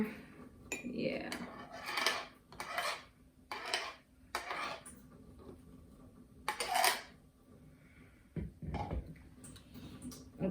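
A spoon scoops milk foam into a latte, making a series of close metallic clinks and scrapes against the cup in irregular bursts with pauses between.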